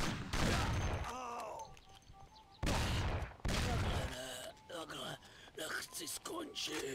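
Gunfire crackles in the video game Mafia as bursts of shots come in quick volleys between quieter gaps, with in-game voices and background sounds around them.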